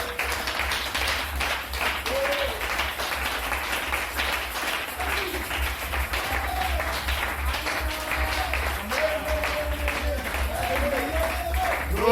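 A congregation at a French-language church service applauds to acclaim the Lord: steady, dense clapping runs for the whole stretch, with voices calling out and talking over it.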